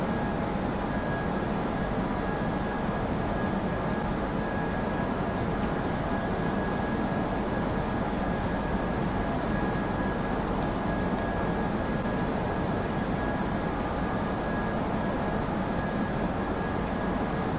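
Airbus airliner engines in a flight simulator game roar steadily at climb thrust, a constant dense broadband rush with a faint high whine, continuous and loud throughout without talk.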